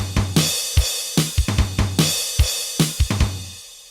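A punchy drum machine, a Boss BR-800 playing pattern P017, loops a busy, syncopated pattern of kicks, snares and crisp hi-hats, loud and dry, with no voices.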